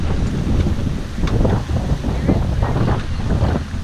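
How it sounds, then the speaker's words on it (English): A reefed sailboat on the open ocean plows through waves with steady wind rush and dull water thumps, loud and continuous throughout. "we're reefed. We're not even full sail, and we're just plowing through these waves"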